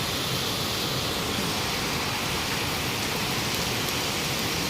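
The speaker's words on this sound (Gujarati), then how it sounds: "આમ ધબાટી વરસાદ આવ્યો છે આમ નીચે પાણી ભરાઈ ગયું" Heavy downpour pouring steadily outdoors, with water pooling on the ground below; a dense, continuous hiss of rain fills the whole span, loud and unbroken, with no voices.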